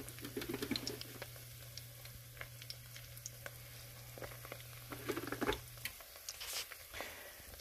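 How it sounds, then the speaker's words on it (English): Spring rolls fry quietly in a pan over low heat, a soft steady sizzle with scattered small pops and crackles, faint and close, alongside a low constant hum. "Cooking spring rolls again."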